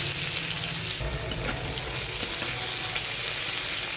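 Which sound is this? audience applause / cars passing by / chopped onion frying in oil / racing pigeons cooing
chopped onion frying in oil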